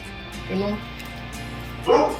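Two short dog barks, a softer one and then a louder one, sound at moderate distance over a low background hum.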